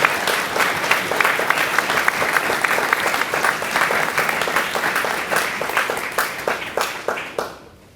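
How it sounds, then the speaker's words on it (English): Sustained audience applause at a 2016 Academy of Finance graduation ceremony, dense clapping from a large crowd that runs steadily and then thins into scattered claps before stopping. "Let's give them a round of applause."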